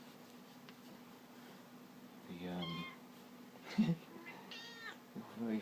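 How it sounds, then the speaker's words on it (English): A cat lets out several short, squeaky meows spaced apart, close and fairly clear over a quiet room with a faint steady hum. "very funny meows recently, Rosie. They're just squeaks, aren't they? They're not really meows."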